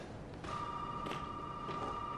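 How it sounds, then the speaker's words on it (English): A telephone rings in the Resident Evil 7 video game, a steady electronic ring that starts abruptly and holds on continuously at moderate level against a low ambient background. "So phone's blaring."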